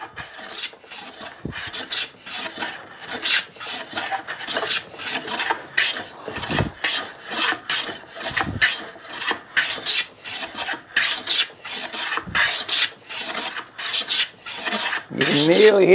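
A hand plane shaves long curls off a board's edge while shooting it square, giving a steady run of close rasping strokes that repeat rhythmically with no talk.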